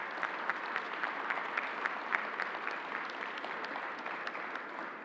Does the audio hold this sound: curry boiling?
no